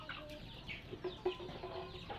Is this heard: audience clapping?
no